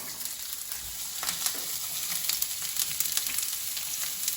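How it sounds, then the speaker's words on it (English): Sliced red onions soften in a frying pan with a steady, moderate sizzle and crackle throughout, a few soft stirring scrapes breaking through, no voices. "take 2 red onions, which we've sliced up, and we're just going to soften them up in a pan"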